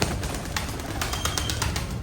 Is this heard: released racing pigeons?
yes